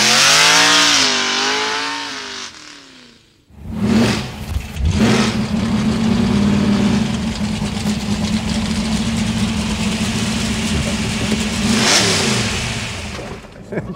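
A 1968 Dodge Hemi Dart's V8 engine idles with a deep rumble, then is revved hard in repeated loud surges before settling into a steady throaty idle, close by, with a voice briefly heard at the start.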